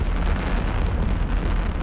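Fireworks going off during a memorial flight in Eve Online, a dense, steady wash of booming and crackling bursts that stays loud and unbroken for the whole stretch.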